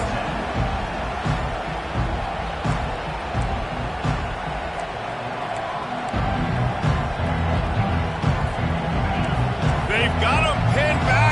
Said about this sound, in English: They've got him pinned back, and they're trying to rattle their eardrums. Listen to this crowd.